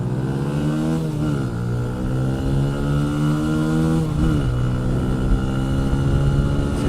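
Benelli TNT 135 motorcycles, a 2018 model, in a drag race: a loud, close buzzing engine climbs steadily in pitch under hard acceleration, dips briefly at a gear change, then rises again with a continuous strained whine.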